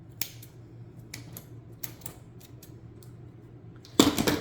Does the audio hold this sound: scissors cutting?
yes